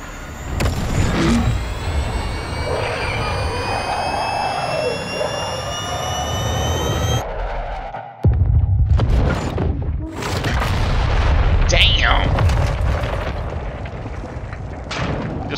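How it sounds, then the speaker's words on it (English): A cruise missile in the video game Modern Warfare 2 roars loudly with a rising jet-engine whine, cuts off abruptly, then a heavy booming impact follows with rumbling aftermath and more roaring, close and intense. "They ain't gonna see this cruise missile coming."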